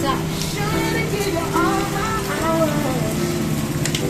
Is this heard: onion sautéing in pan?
no